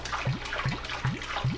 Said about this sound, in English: The water will drain quickly, freely, and easily.